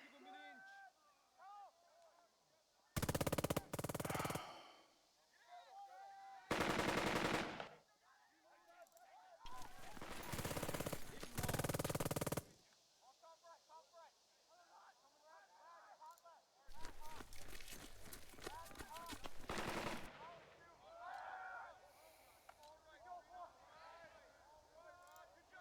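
Machine-gun fire in the tactical war game Burden of Command, during the assault on Vy-les-Lure: several loud, sustained bursts of a few seconds each, separated by gaps, with someone talking throughout.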